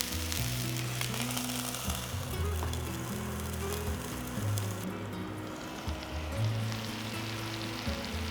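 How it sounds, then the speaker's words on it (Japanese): Eggplant steam-frying in a covered pan makes a steady dense sizzle and crackle that carries on throughout, close and moderately loud, no voices. "裏返したら蓋をし、蒸し焼きにします。"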